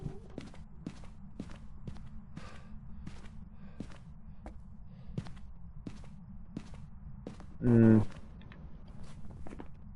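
Footsteps in the horror video game Phasmophobia, a steady series of soft, evenly spaced steps over a low hum of game ambience, with one louder thump partway through.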